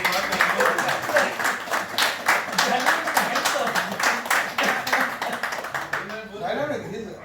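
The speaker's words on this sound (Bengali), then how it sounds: "লিডারের জন্য একটা হাততালি দিন আর কি।" Audience members at an insurance agents' meeting clap for their leader in a brisk, dense burst that fades toward the end, with talking over and after the clapping.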